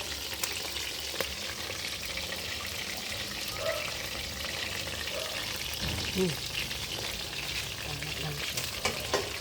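Chicken tinola sizzles steadily in a pot while being stirred, with a continuous bubbling hiss and occasional scraping under brief talk.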